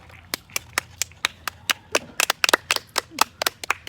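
Several people clapping at a table during a meal, a fast, uneven run of sharp close claps that thickens in the middle and then thins out.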